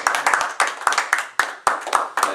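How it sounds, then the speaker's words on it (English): A small audience gives a round of applause, with a few sharp, distinct claps in uneven bursts, close and fairly loud. "let's give her a round of applause"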